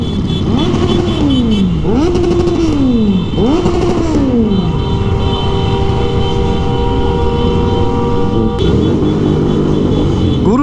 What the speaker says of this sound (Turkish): bazı egzozların susturucuları çıkartılmış